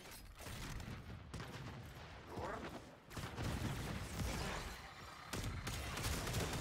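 Heavy gunfire from a big gun in the sci-fi shooter Warframe, sustained bursts of loud, dense shots with booming impacts, close and continuous with brief breaks.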